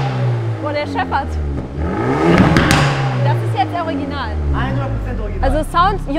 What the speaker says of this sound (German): Also Sound Hyundai i30 N Performance klingt auch so.